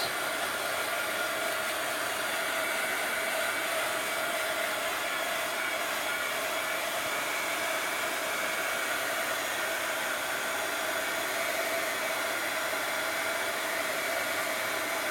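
A hair dryer blows a constant, loud, steady whoosh to dry an art journal page, unbroken from start to finish with no talking.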